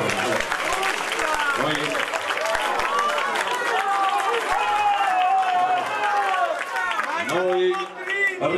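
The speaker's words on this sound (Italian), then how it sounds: "Facciamogli un applauso, facciamogli un applauso." Audience applause at a political rally in Voghera, Italy, with steady clapping and crowd noise carrying on for several seconds, voices shouting through it.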